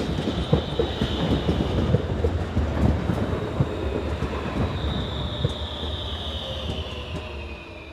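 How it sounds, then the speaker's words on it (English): A Class RABe 525 electric multiple unit rolls into Menznau station, a steady loud rumble of wheels and rail noise with a faint high squeal, running continuously and alone without voices. "The station here at Mensnau sees the arrival of Class RABE 525 unit number 29, with a service for Luzern."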